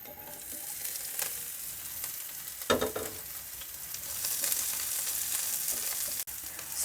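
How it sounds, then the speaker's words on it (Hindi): Potato mixture with cumin frying in hot oil, a steady close sizzle running throughout with brief stirring scrapes, one louder clatter near the middle. "ऑयल को डाल दिया, हल्का सा गरम करेंगे, ज़ीरा डाल देंगे, आलूओं का मिक्सचर डाल देंगे"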